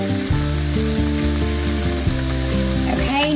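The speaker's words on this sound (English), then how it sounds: "We're just going to saute these for just a couple of minutes just to soften them up." Diced onion and bell pepper with Cajun seasoning sauté in a pan, giving a loud, close, steady sizzle with repeated stirring scrapes and no voice.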